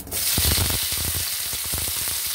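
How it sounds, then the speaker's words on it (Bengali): Green chilies dropped into a little hot oil for a mixed vegetable and chana dal dish crackle and sizzle loudly and steadily, with sharp pops scattered throughout. "কাঁচা লঙ্কা দিয়ে দিলাম সামান্য তেলে।"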